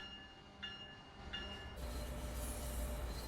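An Amtrak Auto Train in the Train Sim World 2 game pulls out of the platform, a low rumbling drone that swells in the second half, with two brief tonal chimes or horn-like blips early on.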